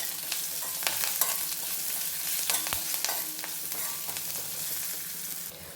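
Sliced onions sizzle in hot oil with turmeric and salt for buttermilk curry, a steady close hiss broken by sharp clicks of a spoon stirring against the pan.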